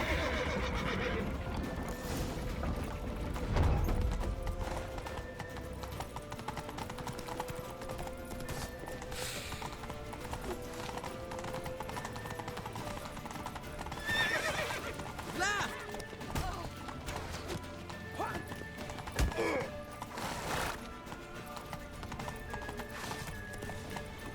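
Horses neigh and whinny amid clip-clopping hooves during a frantic escape through a walled town in the video game The Witcher 3: Wild Hunt, with loud calls rising over a busy, continuous mix of hoofbeats and action noise.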